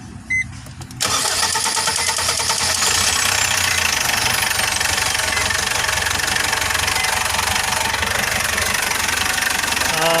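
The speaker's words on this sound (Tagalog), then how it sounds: "Yung tunog ng makina guys, mapansin nyo," A Foton CRDI diesel engine cranks and catches after a brief pause, then idles loud and close with a steady, slightly rough rumble.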